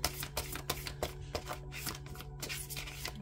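A deck of tarot cards is shuffled up close, with repeated riffling bursts and papery slaps in a steady, uneven rhythm over a faint background hum.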